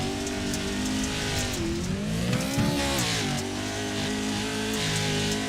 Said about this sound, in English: Listen in to the throttle over the jump.